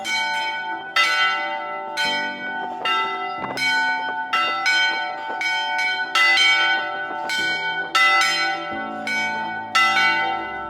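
Church bells peal in an irregular series of resonant bronze strikes, each ringing out and overlapping the next, loud and unaccompanied by speech.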